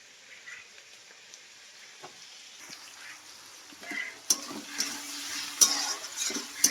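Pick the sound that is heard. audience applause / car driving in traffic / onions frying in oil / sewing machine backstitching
onions frying in oil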